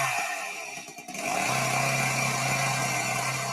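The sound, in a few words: mini chainsaw running in a video game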